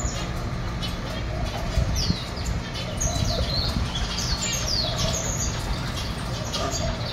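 Taifi yasmin birds sing in an aviary beside a new nest box, with repeated short chirps and warbles over a steady background hum and some nearby noise.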